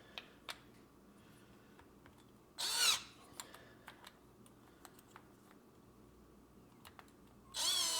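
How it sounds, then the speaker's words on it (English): Two short bursts of a power drill boring through part of a homemade flexible camera mount, separated by quiet clicks and small handling taps, with no talking. "let's drill through this guy"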